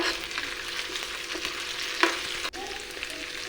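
Green peas frying and being stirred into potato masala in a pan, a close, continuous crackling sizzle with a few sharper clinks, no talk.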